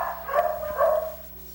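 A frightened dog that had been abandoned on a vacant lot gives a couple of short, close barks and yelps in quick succession, with no talk over them.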